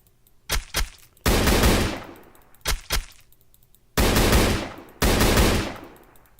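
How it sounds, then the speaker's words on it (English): Gunfire in the survival video game Day R Survival strikes the player: two pairs of quick sharp shots, then three longer, loud, rattling automatic bursts that fade out. "I'm taking bullets to the face and not dying"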